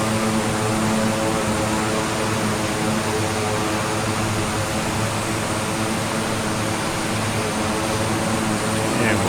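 Simulated cockpit drone of a Rockwell Bronco OV-10A twin-turboprop on approach to landing in Microsoft Flight Simulator 2020, its propellers at full RPM, giving a loud, steady engine hum that holds even throughout.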